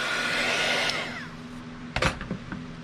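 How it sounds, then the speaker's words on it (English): A heat tool blows hot air to dry embossing powder, spray ink and metallic paint, a loud steady whir for about two seconds before it cuts off, followed by a few close clicks and handling sounds. "Now I'm going to dry it with my heat tool."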